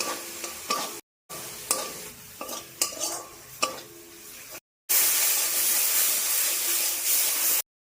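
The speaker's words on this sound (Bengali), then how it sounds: "গরম মশলা সব একসঙ্গে দিয়ে দেবো। কষে নেব।" Turmeric, cumin powder and garam masala are stir-fried together in a pan, with a series of close scraping stirs followed by a steady, loud sizzle, separated by brief silent gaps.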